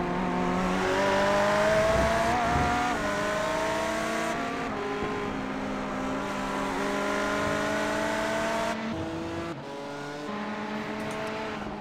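A Ferrari race car in the iRacing sim, running a Road America endurance race, holds a continuous high engine whine that rises and falls through gear changes and revs, steady and close, with no talk over it.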